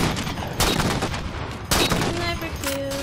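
Sniper rifle fire in the video game Halo 4, two loud booming shots about a second apart with dense game noise around them and no voice over the top.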